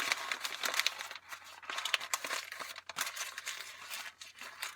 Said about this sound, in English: So I wrapped it with 2 pieces of paper.